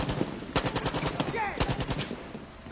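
Suppressed gun in the Far Cry 6 video game firing rapid bursts of muffled shots, two clustered volleys at a moderate rate, close and punchy with no talk.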